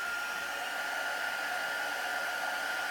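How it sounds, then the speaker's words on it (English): A craft heat tool blowing hot air onto clear embossing ink on a Christmas card, a steady loud hairdryer-like whoosh with no pauses. "once we start with the heat tool"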